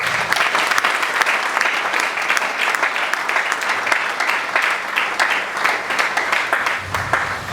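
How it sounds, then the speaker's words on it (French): A crowd at a church plenary assembly in Kinshasa applauds, dense sustained clapping from many hands that stays loud and even for several seconds. "Est-ce que nous pouvons accepter de les applaudir?"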